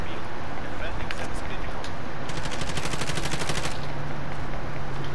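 Gunfire in Call of Duty: Modern Warfare, with scattered single shots followed by a rapid automatic burst over a constant loud background of game noise, and voices talking throughout.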